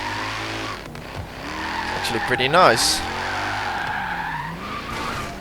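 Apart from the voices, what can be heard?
Alfa Romeo 8C tires skidding in Forza Horizon 3 video game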